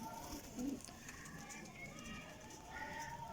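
Rampuri pigeons, kept as breeding pairs, give a soft, faint coo or two early on, with a person talking over them.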